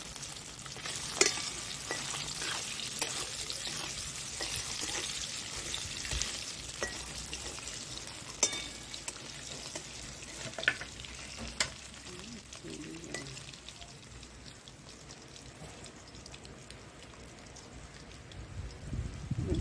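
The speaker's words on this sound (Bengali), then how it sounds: "গোটা জিরে ফোড়ন দিচ্ছি, সেদ্ধ করা আলুগুলো ভেজে নেব।" Boiled potatoes fry in hot oil with whole cumin seeds, giving a steady soft sizzle with scattered crackles and pops. The sound stays close and moderately quiet, with no talking over it.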